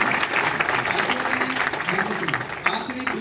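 Sustained audience applause at a motivational business talk in Mumbai, a dense, steady wash of clapping filling the room for several seconds, with a voice faintly audible underneath.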